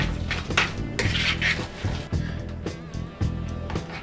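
Egg salad being mixed in a bowl, seasoned with ground pepper and salt, gives repeated scraping and clinking of a utensil against the dish in uneven strokes, close and fairly loud, with no talking.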